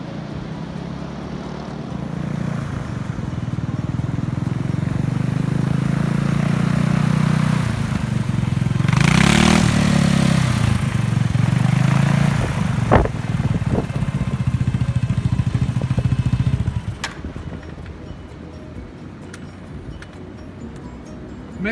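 Ultralight mini trike aircraft engine during landing, a loud droning buzz that rises and swells as it passes close, then drops off sharply toward idle near the end.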